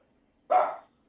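A dog off camera lets out one short, sharp bark that quickly fades, with quiet surroundings before and after and no voices.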